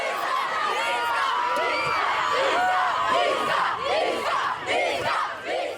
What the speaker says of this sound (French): Le rappeur de 23 ans se paye un coup de pub et un gros bain de foule.